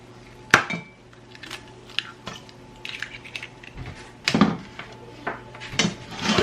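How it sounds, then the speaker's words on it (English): Two eggs being beaten in a bowl until fluffy, heard as scattered clinks and taps of a utensil against the bowl, with sharp knocks and short rattling bursts at irregular intervals, fairly close. "we're just gonna beat these until they're fluffy"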